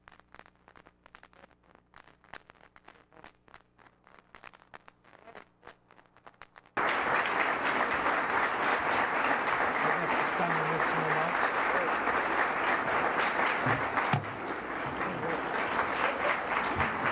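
An audience applauds the 1993 recipient of the Award of Merit: sparse scattered claps build, then swell abruptly into loud, sustained, dense applause that carries on steadily to the end.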